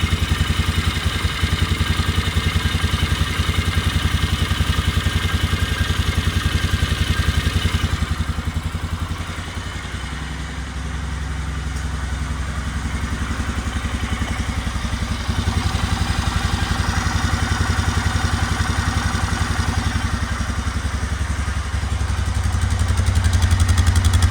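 A cold motorcycle engine idles steadily and loudly just after starting, for a long stretch, its rough, even rumble dipping slightly midway before settling back.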